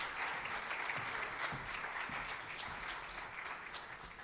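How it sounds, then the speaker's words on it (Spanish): Applause welcoming a keynote speaker at a conference, a steady, fairly soft wash of many hands clapping in a hall, continuous throughout. "recibamos con un fuerte aplauso a nuestra ponente magistral"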